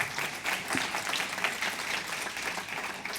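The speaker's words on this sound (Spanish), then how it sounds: "Y un aplauso a vosotros por estar ahí" Audience applause at the close of a panel session at a conference on generational diversity, a steady, soft wash of many hands clapping heard from a distance.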